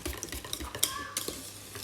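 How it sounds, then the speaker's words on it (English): A spoon stirs butter into glossy, creamy custard in a pot for galaktoboureko, with soft scraping and light clinks against the metal in a short, close burst. "So just keep stirring until that butter melts."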